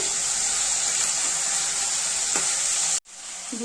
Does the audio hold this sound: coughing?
no